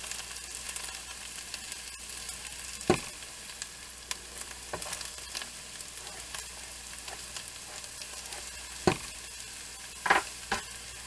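Onions and garlic frying in rendered bacon fat in a pan for clam chowder, a steady soft sizzle with occasional sharper crackles and clinks of a utensil against the pan, with no talking.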